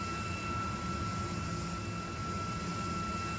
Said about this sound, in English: Oh, that's a big ass plane.